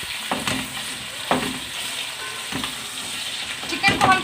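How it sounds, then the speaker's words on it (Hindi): Chicken pieces and green chillies sizzle steadily in a pot for yakhni pulao, with several scraping stirs at irregular moments and a busier clatter near the end, no voices. "चिकन को हम तकरीबन 5 मिनट के लिए भून देंगे अच्छे से"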